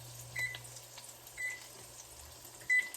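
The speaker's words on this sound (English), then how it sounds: "So I'm going to set the timer" An oven timer is set for burgers cooking in a home kitchen, giving three short, separate electronic beeps against a quiet background with a low hum.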